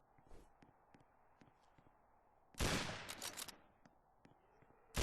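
A loud burst of rapid Fedorov rifle fire rings out in the video game Apocalypse Rising, lasting about a second before fading, with scattered faint clicks and footsteps before it and another sharp shot at the end.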